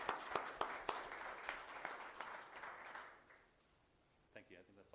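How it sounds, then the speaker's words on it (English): A short burst of applause from a small city council meeting audience, claps scattered and fading out after a few seconds, followed by near quiet and a brief voice. "a round of applause for them"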